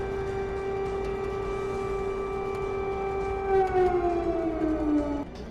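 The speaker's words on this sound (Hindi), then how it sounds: "24 घंटे तक व्हाइट हाउस में सायरन बजता रहा" A siren wails in a steady, sustained tone, then slides downward in pitch as it winds down near the end, heard alone without any voices.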